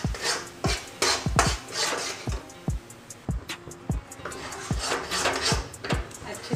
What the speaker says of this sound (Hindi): अच्छे से चलाते हुए मावा को भूनना है।